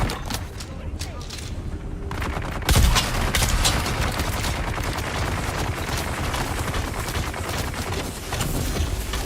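Gunfire from a Dune Awakening fight, dense rapid shots and automatic bursts rattling continuously with one heavy bang near the start, while people talk over the shooting.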